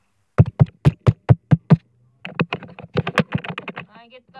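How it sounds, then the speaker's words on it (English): Rapid keystrokes on a computer keyboard, about eight evenly spaced taps, then a denser burst of irregular clicks, loud and close with no talk. "I'll type in the coordinates."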